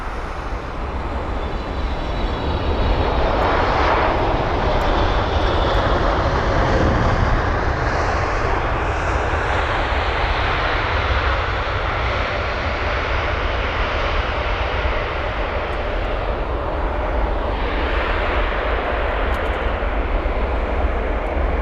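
An Air China jet on flight CA937 from Beijing, an 11-year-old aircraft, rumbles past at London Heathrow. Its broad, steady engine roar stays loud and continuous throughout, with no voices.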